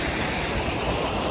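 Materuni waterfall near Kilimanjaro gives a dense, continuous broadband roar of falling water, close and steady throughout with no talk.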